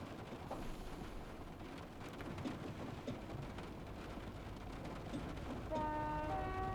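A steady rumbling roar of a passing train in the video game Train Simulator Classic fills the clip, dense and continuous, with rain-like hiss and a few brief high whistling tones near the end.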